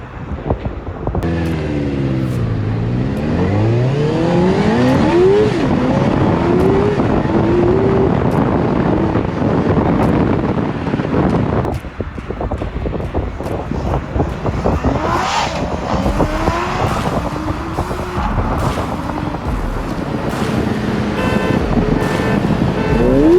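A street go-kart powered by a Suzuki GSX-R600 motorcycle engine screams past and accelerates hard, its rising and falling revs loud and near, mixed with heavy wind buffeting on the microphone.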